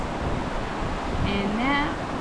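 Water rushes in a stream through a Korean valley beside a riverside restaurant, a steady broad hiss close to the microphone, with a person's voice briefly over it.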